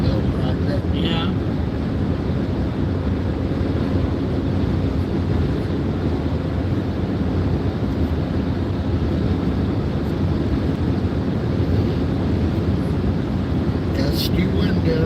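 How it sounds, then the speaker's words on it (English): Gusty wind buffeting an outdoor microphone on a hike, a steady loud rumbling roar that fills the whole stretch with no letup. "Gusty wind area."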